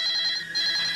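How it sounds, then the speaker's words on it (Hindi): A telephone rings at night in a house, two electronic trilling bursts separated by a short gap, loud and close with no voices. "इतनी रात को हमारे वहाँ कौन फोन कर सकता है?"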